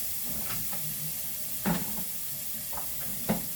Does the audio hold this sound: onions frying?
yes